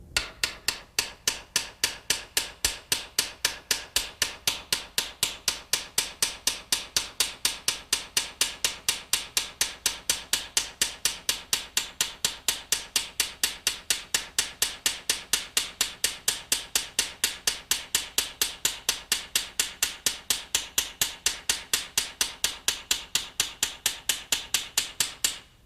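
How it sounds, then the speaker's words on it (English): Polished ball peen hammer peening a steel 1911 pistol part, a steady, rapid train of sharp metallic taps repeating evenly for the whole stretch, close and clear with no voices. "We'll just take a polished ball peen hammer and just peen this out until it's nearly all gone."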